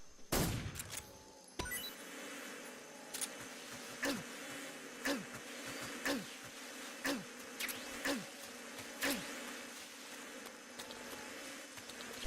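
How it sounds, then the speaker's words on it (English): Buzzing bees and flies in a stealth video game, a steady insect drone with a sharp burst near the start and repeated short sharp hits spaced about a second apart throughout. "What about these bees?"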